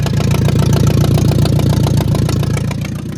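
Engine of a Ford half-track tractor runs steadily nearby while its carburettor is adjusted, a loud, even chugging idle with regular low pulses and no voices.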